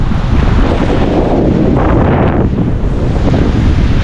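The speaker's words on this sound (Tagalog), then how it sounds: "Biglang lumakas yung hangin." Strong, continuous wind roaring and buffeting the microphone, with surging gusts and a rushing, wave-like wash throughout.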